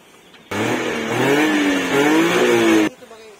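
A car engine runs and revs for about two seconds, a loud close rising and falling drone that then cuts off, with quieter background before and after.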